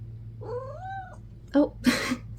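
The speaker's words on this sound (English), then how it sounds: "That's my cat, Cheralyn." A house cat gives one clear, wavering meow close by, followed by a few short sharp chirps and rustling sounds over a low steady hum.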